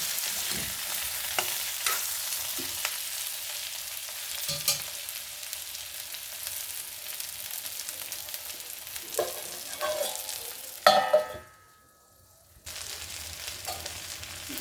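Eggplant curry fries in a pan with a steady, soft sizzle, broken by spoon scrapes and stirring clatter, then a brief near-silent pause before the frying noise resumes.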